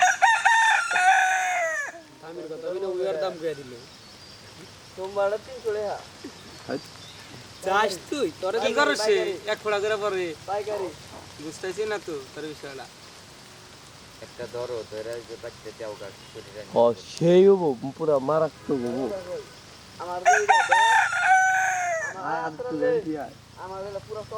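A rooster crows loudly several times, long wavering calls repeating across the clip, with other fowl clucking and honking nearby.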